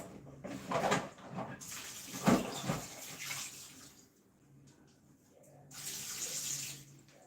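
Tap water runs into a kitchen sink to soak baking utensils, gushing in uneven bursts that swell and fade, drop to near quiet, then pick up again near the end, with no voices over it.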